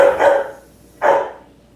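A dog barks twice indoors in a kitchen where bacon-stuffed mushrooms are being made, two short, loud, close barks about a second apart with quiet between them.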